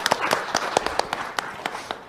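Scattered hand clapping from a small audience at a talk event, a handful of sharp, uneven claps that thin out toward the end.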